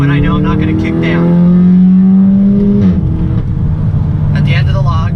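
A car accelerates hard in 2nd gear with a loud, rising engine drone, then drops in pitch at the shift into 3rd and pulls again. Someone talks over the engine throughout.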